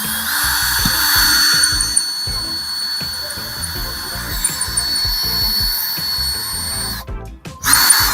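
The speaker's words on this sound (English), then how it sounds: "I'm going to drill like where there's already a hole in the wall" A power drill with a badly worn bit whines continuously against a wall, drilling into an existing hole, grinding with a rough, stuttering texture, then cuts out briefly and starts again near the end.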